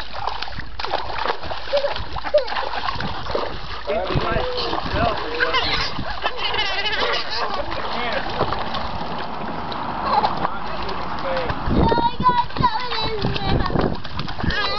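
Water splashes repeatedly and busily throughout, with children's voices and chatter mixed in close by.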